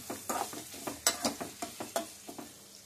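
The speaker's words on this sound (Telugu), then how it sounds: "రెండు మూడు ఎండుమిర్చి కూడా వేసుకుంటున్నానండి" Dried red chilies crackle in hot oil as a spoon stirs them around a pan, giving a quick series of soft, close scraping sizzles over a faint frying hiss.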